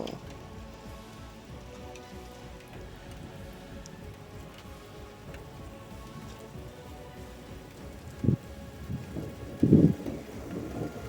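Steady, dense rain patter from a night thunderstorm downpour with a low rumble of wind buffeting the microphone, continuous throughout, with a couple of louder gusts near the end.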